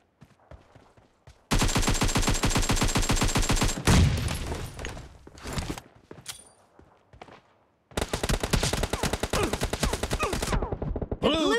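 Video game gunfire during a base capture: long bursts of rapid automatic shots crack loudly, broken by a few scattered single shots and a brief lull, then another sustained burst.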